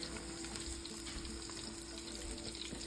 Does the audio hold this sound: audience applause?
no